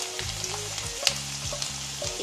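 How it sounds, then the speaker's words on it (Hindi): Chopped onion and green chili frying in mustard oil in a kadai sizzle quietly and steadily, broken by a few soft stirring scrapes and one sharper clink, no speech. "इसमें हम कटा हुआ प्याज, हरा मिर्च डालेंगे।"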